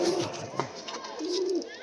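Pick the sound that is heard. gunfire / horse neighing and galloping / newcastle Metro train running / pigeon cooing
pigeon cooing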